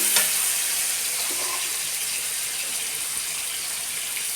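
Tomatoes cooking down in a pan for a fish curry give off a steady, soft sizzle with a faint hiss, continuous and even, with no voices over it.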